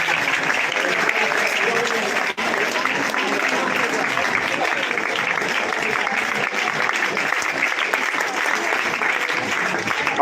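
A crowd at an outdoor political welcome rally for a Lok Sabha candidate in Sirsa applauds steadily, the dense clapping continuing under a voice speaking over it.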